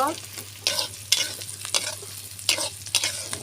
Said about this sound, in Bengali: আমি ওই কালাইয়ের ডাল তেলে দিয়ে দিলাম আমি ডালটা মশলার সাথে একটু ভেজে নেব